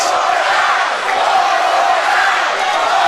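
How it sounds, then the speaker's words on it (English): A packed crowd at a Texas wrestling show in Canton, Texas roars and cheers without letup, a loud, dense wall of voices that swells slightly midway and holds to the end. "Listen to this crowd"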